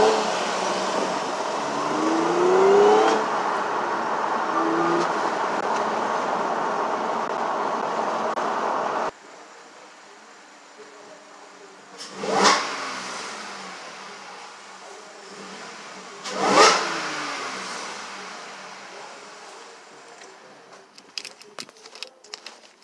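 Stage 2 tuned 2013-era Audi S4 B8.5 accelerating with the windows down, heard from inside as a rising engine drone with wind rush, then a quieter cabin with two swelling rev or passing bursts.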